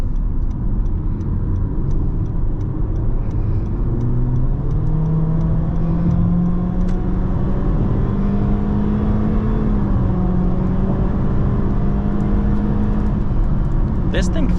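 A 2023 Honda HR-V engine in sport mode drones steadily from inside the cabin, its pitch rising and falling as the car accelerates, with a continuous road and tyre hum underneath and a driver talking over it.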